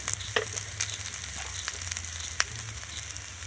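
Mixed vegetables sizzling and frying in a pan with turmeric and salt, a steady close crackle with a few sharper pops and stirring scrapes, no voices.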